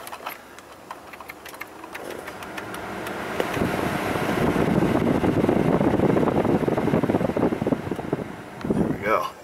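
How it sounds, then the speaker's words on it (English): A Ford F-150 cabin blower motor fan running, its whooshing airflow rising as the speed is stepped up, then holding a loud steady rush before dropping off at the end. "Now we'll check his blower speeds here."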